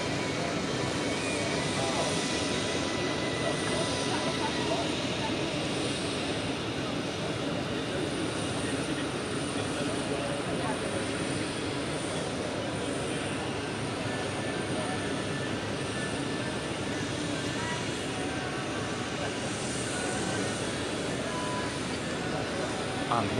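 An aircraft flying display at the Paris Air Show: a sustained, distant-sounding engine roar that swells and fades slightly over a long stretch, fairly loud and without clear speech.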